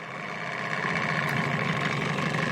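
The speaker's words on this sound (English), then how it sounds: "engine just runs and purrs like a kitten" An outboard boat engine on Upper Heron Lake idles smoothly, a steady close rumbling drone with an even, unbroken hum throughout.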